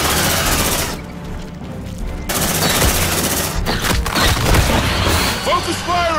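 Sustained suppressive gunfire from squad weapons in the sci-fi tactical video game Aliens: Dark Descent, loud, dense, rapid bursts with booming impacts running almost continuously, with only a brief dip in intensity partway through.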